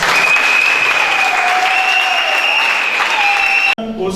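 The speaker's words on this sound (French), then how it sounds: "Applaudissements." Guests break into loud, dense applause at a civil wedding ceremony, sustained clapping up close with shouts or ululation riding over it, cutting off abruptly near the end as talk resumes.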